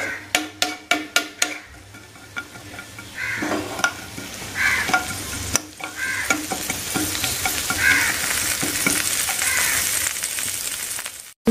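Coconut pieces and cashews frying in ghee for wheat payasam, opening with a quick series of sharp spoon knocks on the pan, then a steady close sizzle with scraping stirs and crackles, no talking.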